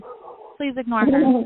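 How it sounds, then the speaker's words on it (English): A pet dog named Tipsy barks in the background, a few close, fairly loud bursts following a voice that speaks briefly over the start. "my dog's barking because of that"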